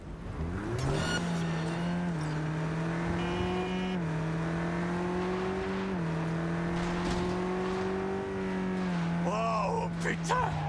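A car engine drones steadily in Cyberpunk 2077 while fleeing a police chase, pitch stepping up through repeated gear changes, with brief sharper sounds near the end.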